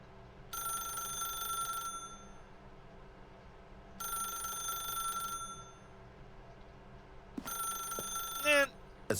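A telephone rings in The Stanley Parable, three loud, evenly spaced bursts of bell-like ringing with a pause between each, the last one broken off by a clatter as the receiver is picked up.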